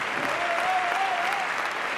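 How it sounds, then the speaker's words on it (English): Steady applause from spectators at an indoor padel match in an arena, a dense, even clatter of many hands with a faint voice calling over it. "Their team, Rafa Nadal, they're clapping their hands for the challenge to see"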